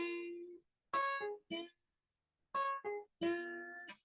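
Country-style guitar string plucked then slid up in pitch, a few short twangy notes with clear gaps of silence between them, close and quiet, played alone.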